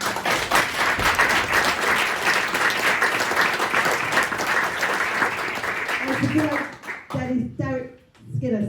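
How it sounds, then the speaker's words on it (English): A crowd at a political rally or union speech breaks into loud, sustained applause. The dense clapping fills most of the stretch before thinning and fading out as a voice briefly comes through. "offer a round of applause for our international workers"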